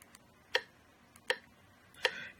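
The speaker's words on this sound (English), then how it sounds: "So let me turn the metronome back on." A metronome ticks three times at an even pace, sharp isolated clicks spaced under a second apart against a quiet background.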